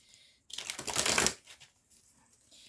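Tarot cards being shuffled in a tight burst of fast papery riffling that swells and then stops, followed by a few softer card taps and handling sounds, close and alone.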